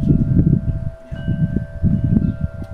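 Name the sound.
wind blowing outdoors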